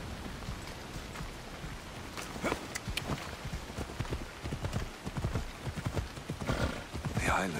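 Galloping horse hooves during a ride in Assassin's Creed Odyssey: a steady, rapid clip-clop drumming close by. It continues throughout under ambient game sound, with occasional louder hoofbeats.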